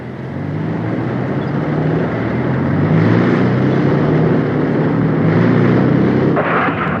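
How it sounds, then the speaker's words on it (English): Recovery vehicle engines run with a heavy, steady mechanical rumble and a roaring drone that swells slightly midway, loud and continuous, with no talking. "Recovery vehicle engines in transmission"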